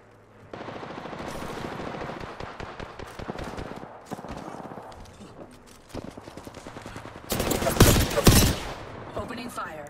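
Rapid automatic gunfire from an Apex Legends firefight rattles in dense bursts, building to a loud, heavy barrage near the end.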